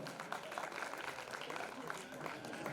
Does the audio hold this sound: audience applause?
yes